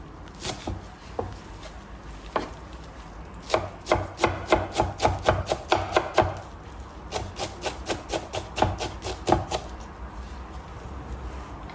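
Rapid, rhythmic knife chops finely cutting parsley on a wooden board, coming in bursts with short pauses, close and fairly loud.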